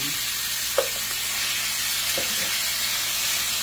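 Beef tips marinated in Worcestershire sauce searing in olive oil in a cast iron skillet over medium heat, a steady loud sizzle with a couple of faint utensil clicks.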